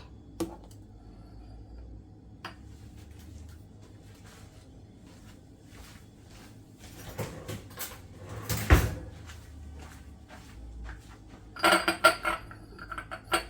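In a home kitchen, a cupboard or drawer is opened and metal cutlery rattles as a spoon is fetched, giving a few sharp clinks and knocks over a quiet background.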